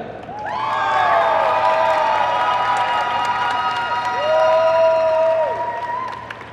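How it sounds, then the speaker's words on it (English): An audience at the 2019 Ceroc London dance championships applauds a competing couple with sustained clapping, plus whoops and rising shouts that swell again toward the end. "Can I please have your applause for couple A?"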